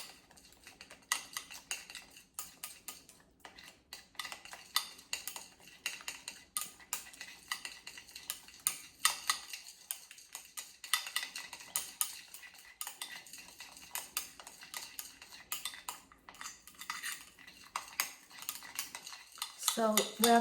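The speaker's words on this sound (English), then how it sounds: "and then I'm gonna mix them now" Stuffed eggplant filling with pork being mixed in a bowl, rapid close clinks and scrapes of a utensil against the dish in an irregular steady rhythm, no talk.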